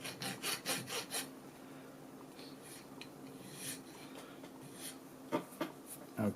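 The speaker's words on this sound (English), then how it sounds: "So I'm going to take again the coarse one, coarse file. I'm going to start to shape down towards the back" A coarse file shaping a bone guitar nut, with a rapid run of rasping strokes at the start, a quieter stretch of light scraping, then a few more sharp strokes near the end, all close and fairly soft.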